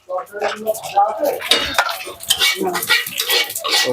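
Panch phoron and cumin seeds tempering in hot oil in a pan, light sizzling crackles mixed with clinks and scraping of utensils against the pot, close by and fairly loud, with a voice talking intermittently over it.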